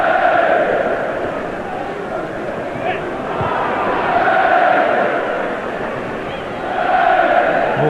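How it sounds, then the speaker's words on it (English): Leeds United supporters cheering and chanting in the away end of a Premier League football stadium at Sheffield Wednesday, a steady distant crowd roar that swells in waves under commentary. "Leeds supporters cheering every pass."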